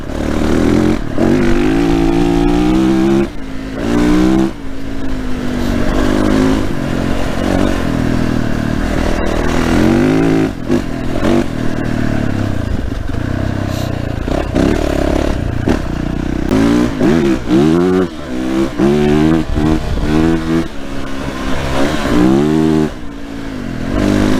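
A Yamaha 450 YZF dirt bike revving hard through forest mud in fifth gear, the engine loud and close, rising and falling with throttle bursts amid clattering and scraping.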